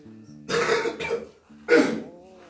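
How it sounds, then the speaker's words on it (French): Two rough coughs or throat-clearing bursts, close and fairly loud, separated by a short pause, with a low hum underneath. "Je m'excuse pour la toux."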